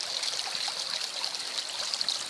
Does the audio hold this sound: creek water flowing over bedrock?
yes